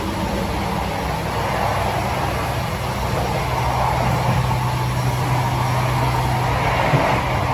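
Steady, loud drone of a diesel generator aboard an Indonesian passenger train, with a low constant hum and broadband rumble, continuous with no pauses.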